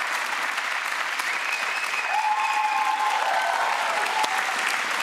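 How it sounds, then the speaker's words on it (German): Applause from a late-night TV studio audience fills the room, steady and fairly close, with some cheering tones partway through and no talk over it. "Einen derart freiwilligen Applaus habe ich schon lange nicht mehr gehört."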